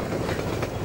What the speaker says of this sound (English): normally you'd think the train would just, like, run you over and kill you, but really it just kind of clips right through.